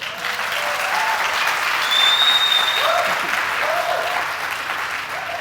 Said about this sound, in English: So let's have an applause for that.